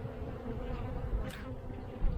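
Honey bees drone steadily around an open hive during a February inspection, a continuous close buzzing hum with no talk.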